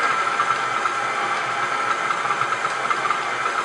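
Stand mixer fitted with a paddle churning butter at medium-low speed, a steady whirring motor hum with a faint rattling vibration running evenly and close throughout.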